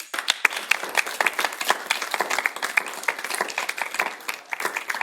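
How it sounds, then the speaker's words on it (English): Applause from a conference audience for the panelists at a food hub and purchasing cooperative event, a scattered room of hand claps with sharp individual strikes, moderately close, holding steadily for several seconds with no voices. "maybe we'll give them a round of applause"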